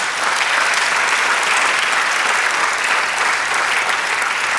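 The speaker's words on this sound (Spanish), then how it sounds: "Dale un aplauso al Señor." A church congregation claps steadily and loudly throughout, a dense, continuous round of applause with no voices standing out.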